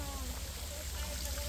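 Water flows steadily from a pipe set into a waterfall, a continuous close splashing trickle with a low rumbling undertone throughout.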